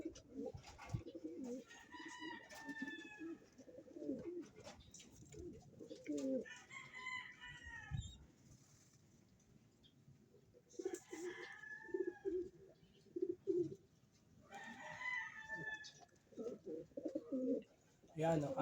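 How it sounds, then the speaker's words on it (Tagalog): Fancy pigeons coo in repeated throaty bursts, close by during feeding, with pauses between calls and some shuffling and other bird noise around them. "Yan ang ating mga ibon, kalapatids."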